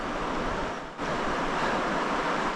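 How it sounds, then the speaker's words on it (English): East Verde River in Arizona, the largest river crossing on the Arizona Trail and calmed after recent rains, rushes as a steady broadband water roar close by, with some wind buffeting the microphone. "Now this is the East Verde River."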